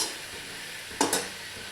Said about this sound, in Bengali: এবারে টমেটোটা একটু ভেজে নিয়ে আমি দিয়ে দিচ্ছি মাংসটা।